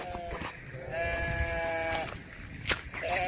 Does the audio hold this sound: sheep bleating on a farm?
yes